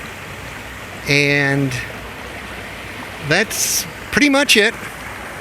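Creek water flows in an orchard grove, a steady broadband rush running under the whole stretch while someone talks over it in a few short bursts.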